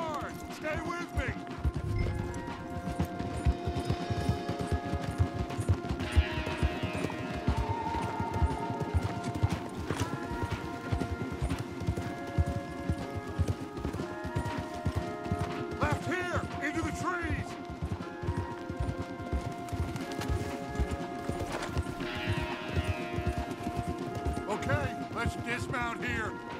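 Steady rhythmic hoofbeats of horses at a gallop in the video game Red Dead Redemption 2, with music playing throughout and occasional voices over the clatter.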